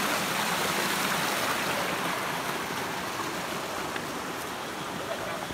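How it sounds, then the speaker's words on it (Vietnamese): A loud forest stream rushes steadily and close by on a jungle survival trek, a dense, unbroken wash of water noise that fills the whole stretch without pause. "nước suối rất là to."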